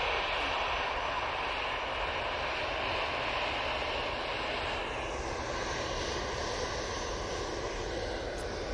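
An easyJet airliner at Manchester Airport gives a steady, loud engine roar that holds evenly from start to end, with a faint swish of movement partway through.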